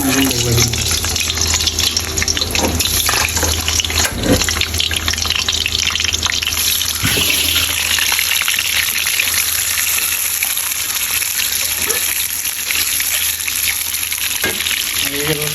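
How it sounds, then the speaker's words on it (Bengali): An egg fries in hot oil in a pan while a Bangladeshi chicken curry dinner is being cooked, giving a loud, steady sizzle and crackle with a few scrapes and stirs, and no voices. "এখন এই তেলের মধ্যে আমরা ডিমটাকে ভালো করে ভেজে নেব।"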